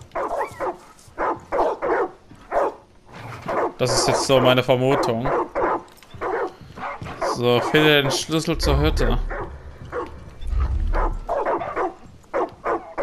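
Dogs in the video game Far Cry 5 let out short barks and whining yelps in a couple of bursts, heard beneath someone talking steadily in German.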